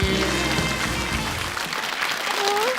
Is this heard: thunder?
no